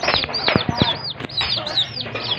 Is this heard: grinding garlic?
no